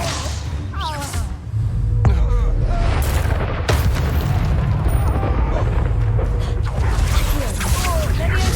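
Incendio fire spells blast in the video game Hogwarts Legacy, booming bursts and crackling impacts rolling over a dense, loud battle soundscape with game voices mixed in.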